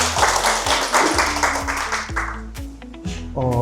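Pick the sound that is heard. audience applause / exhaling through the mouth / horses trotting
audience applause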